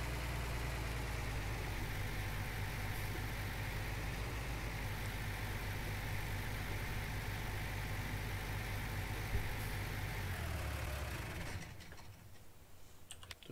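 Tractor engine in Farming Simulator 19, a low-horsepower tractor idling with a steady, dense low rumble that runs loud and constant for about eleven seconds before cutting off abruptly.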